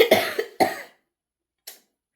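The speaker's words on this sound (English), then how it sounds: "This cough, when I've turned on, started recording, that's when it comes." Two sharp, close coughs in quick succession, then a short pause before a faint, brief third sound, in an otherwise silent room.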